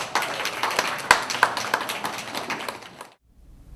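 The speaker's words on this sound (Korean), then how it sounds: "박수 부탁드립니다." A small crowd claps at the unveiling ceremony of a Statue of Peace at a Korean community center in New York, a lively scatter of hand claps with a few sharp ones, then an abrupt cut to near silence.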